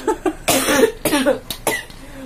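A few harsh, close coughs in quick succession, loud and raspy, with short pauses between them.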